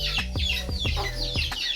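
A rooster coming to eat gives rapid, close clucks, about a dozen short sharp calls in quick succession over faint background noise.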